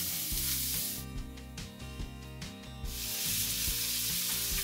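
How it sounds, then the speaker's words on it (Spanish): Garlic, onion and carrot sizzling in a generous splash of olive oil in a pan over high heat, a steady close frying hiss with soft stirring scrapes. "voy a poner un chorro generoso de aceite de oliva y comenzaremos sofriendo el ajo, la cebolla"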